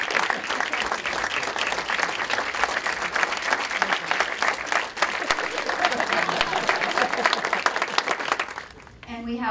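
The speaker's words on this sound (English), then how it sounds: "he deserves a big round of applause." An audience at a civic art event honoring a painter gives a long, steady round of applause that ends abruptly, a voice starting to speak as it dies out.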